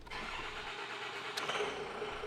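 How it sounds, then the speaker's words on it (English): A vehicle engine cranks and starts on a CF series truck during a hydraulic power brake test, a steady mid-pitched mechanical running sound close by with a brief sharp rise partway through and no talk. "Start the engine."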